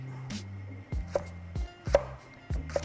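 A knife chops leek on a cutting board in a home kitchen, about four to five crisp, evenly spaced strokes close by, with nobody talking.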